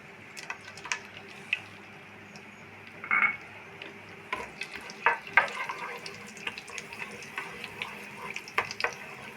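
Cinnamon, cardamom and cloves frying in two tablespoons of coconut oil in a pan, a soft low sizzle with scattered sharp pops and clicks building through, no voices.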